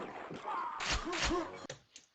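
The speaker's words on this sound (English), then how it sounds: "And you heard a Mega health pickup just then." A Quake Mega health pickup chimes during a DM3 4on4 deathmatch. Short bright bursts cut through busy game noise, followed by a quick thud and a faint click.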